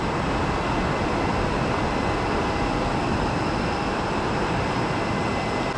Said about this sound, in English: There's the air train heading over to and stopping at the economy parking lot.